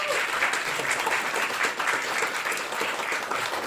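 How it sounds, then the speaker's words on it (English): Steady applause from a live comedy club audience in Harrow, honouring a crew member in the corner, dense and even throughout with no break. "Big round of applause to Dan, please."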